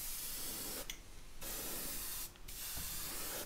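An airbrush sprays paint onto a bluegill fishing lure in a steady close hiss, broken by two brief pauses between passes, with no voices.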